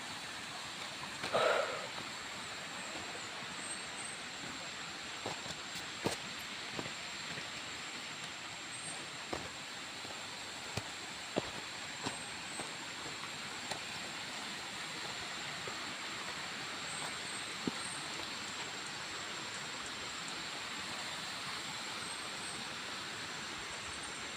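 Tall waterfall on a steep hiking trail, its steady broadband rush of falling water running continuously and evenly throughout, with a few faint knocks and a brief louder bump near the start.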